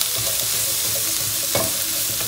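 Prawns and capsicum stir-fry in a hot pan with a constant close sizzle, broken by a couple of louder spatula scrapes and clacks against the metal.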